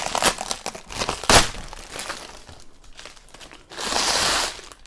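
Plastic bag wrapping around a Philips HD9650/90 Airfryer XXL crinkles as it is pulled open, with close, loud rustling bursts that come and go and then swell into a sustained crackle near the end.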